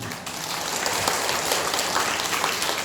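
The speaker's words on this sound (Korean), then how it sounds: "오늘은 저에게 박수를 치는 게 아니고 성북구를 지켜주시는 이승희 국회의원" A seated audience applauds at a Korean folk performance troupe's show, with continuous full-room clapping that stays loud and even throughout.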